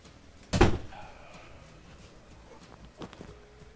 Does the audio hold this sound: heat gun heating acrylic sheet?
no